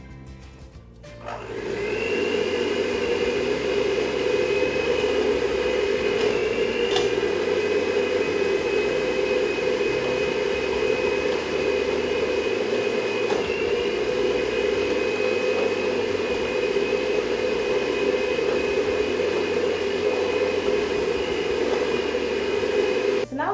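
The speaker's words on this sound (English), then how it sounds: "I'm going to mix the butter and the icing together and then just incorporate a little bit of milk" An electric mixer whirs continuously as butter and icing are beaten together into cake cream, a loud, steady motor drone that starts abruptly and holds for over twenty seconds.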